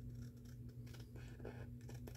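Scissors cut through cardstock along the edge of a card base in a steady, close scratching snip, faint and continuous over a low background hum.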